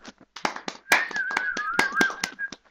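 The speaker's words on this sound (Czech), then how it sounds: "Potlesk, prosím" Applause for a young contestant about to sing, heard as a small group's scattered hand claps with a few sharp strikes, near and fairly sparse, with a faint high whistle-like tone running through.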